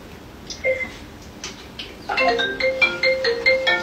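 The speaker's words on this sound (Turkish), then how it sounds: "alarmı çalıyor" A phone alarm starts ringing with a repeating electronic melody of bright tones, faint at first then louder and steady, with no talk.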